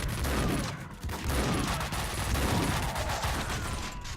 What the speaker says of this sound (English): That was a lot of bullets at one time.